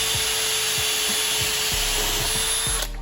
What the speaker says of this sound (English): Using an 1/8 inch drill bit to pre-drill them.